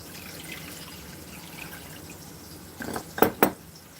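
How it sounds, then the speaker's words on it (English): Water is poured into a crock pot: a soft, quiet trickle at first, then a short louder splashing pour near the end, with no talking. "So I'm going to go ahead and put some water in there."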